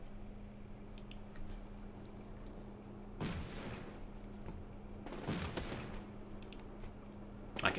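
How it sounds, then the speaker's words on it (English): Distant gunfire and sharp supersonic bullet cracks in the Combat Mission Shock Force 2 war game, set in a city near a mosque, two bursts of crackling impacts over a steady low ambient hum. "I can hear the damn bullets breaking the sound barrier over here."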